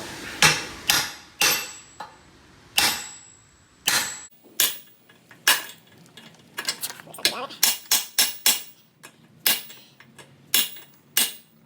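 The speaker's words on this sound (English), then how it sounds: "so I can start hammering" Repeated sharp hammer blows on a BMR BK050 solid differential bushing in an S550 Mustang GT, close and metallic, struck in uneven bursts with short pauses and a quicker flurry near the middle.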